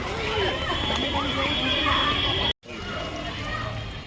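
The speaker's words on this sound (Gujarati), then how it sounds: "જો આપણે પાણી નાખી દીધું છે." Water is poured into a cooking pot of whole-onion curry, giving a soft sloshing and sizzling under a person talking, cut by a brief silent gap near the end.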